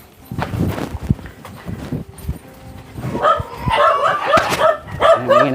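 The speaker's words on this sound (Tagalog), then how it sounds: "Nangingi na mga aso." Several dogs bark at a house being visited, sharp barks and yips near and loud at first, then a cluster of higher, overlapping barks and whines alongside footsteps.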